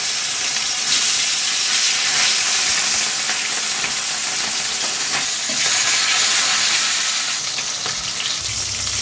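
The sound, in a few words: fish frying in oil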